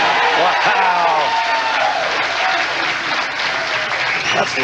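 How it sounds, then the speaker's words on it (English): A bowling crowd at a 2001 professional tournament in Nashville cheers and applauds loudly and continuously, a broad roar with clapping throughout. "That cheer you heard from Venezuela might be his son, who also bears the same name, Amleto."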